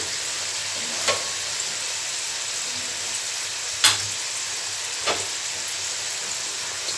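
Potatoes frying in a pan with oil, a steady close sizzle with a few sharp pops and spatters standing out above the hiss.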